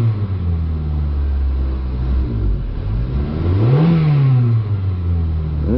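A 2001 Chevrolet Prizm with a 1.8L engine and a lean fault is revved, its close idle hum sweeping up into a sluggish rise in pitch and then settling back down.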